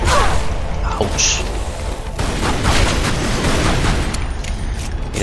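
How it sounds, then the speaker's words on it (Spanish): Enemy gunfire in the video game Tomb Raider Anniversary, set in the Great Pyramid level: a loud, sustained barrage of overlapping shots and booms that runs through the whole stretch. "lo jodido de esto son los disparos que lanzan, porque os pueden hacer caer abajo."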